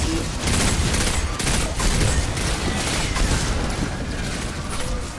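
Rifle fire in the video game Destiny 2, a dense, continuous barrage of rapid shots blending into a loud roar with booming impacts, unbroken for several seconds.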